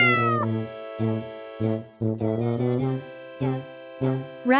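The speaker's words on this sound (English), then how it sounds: "Cat baby is kitten." A cat or kitten meows about eight times in a steady run of short, clear calls, close and loud with quiet gaps between.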